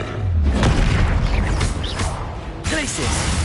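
Spell blasts in Hogwarts Legacy, with the Bombarda blasting charm among them: heavy booming explosions and crashing impacts roll on continuously, loud and close, with magical whooshing tones layered on top.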